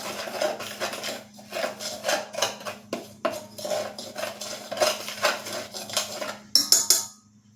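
Sabudana flour being mixed with salt in a bowl, with repeated scraping and clinking of a spoon against the bowl in an irregular stirring rhythm, close and moderately loud, alone without talk.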